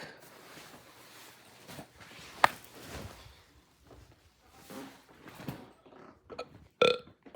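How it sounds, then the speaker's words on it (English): A single loud burp erupts close by near the end, preceded by quiet rustling and handling noises. "I didn't mean to burp on the camera there"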